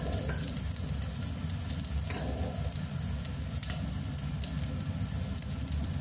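Spices sizzle and fry steadily in a pan for a rohu fish bhuna, a constant close crackling hiss with faint stirring and no voices.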